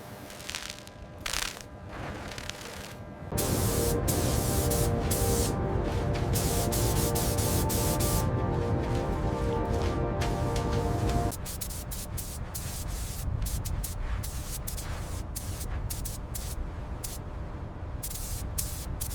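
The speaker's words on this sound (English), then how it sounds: "Keep that sprayer moving left." Steady loud hiss of a paint sprayer laying gray paint on an icebreaker ship in the Arctic, rising to a denser roar midway before easing back, with intermittent background voices.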